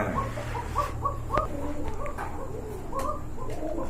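A pair of red Jacobin pigeons coo close by in repeated soft, low throaty calls over a steady background hum, with a few sharp clicks in between.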